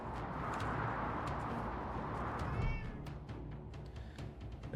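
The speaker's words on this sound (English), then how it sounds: "The cat slinks around your ankles." A cat meows inside the video game Wasteland 3, one short rising call near the middle that sits over a dense bed of game ambience and music.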